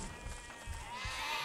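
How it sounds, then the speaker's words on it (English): Sheep bleat in the video game Overlord, a faint, steady flock call lasting briefly over continuous game ambience, with no talking. "Look at all these sheepies."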